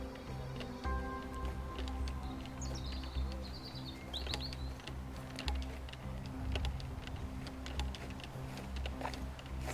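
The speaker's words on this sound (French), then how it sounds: "Écoutez les chants des oiseaux là." Birds sing and chirp in woodland on a golf course near Toulouse, bright calls scattered throughout against steady ambient noise and faint ticking.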